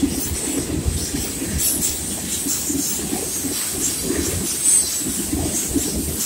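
A Norfolk Southern 68N freight train heading eastbound with BNSF and CP SD70ACU locomotives rolls past steadily at close range, a continuous low rumble of wheels and cars with faint clatter and an occasional high squeal.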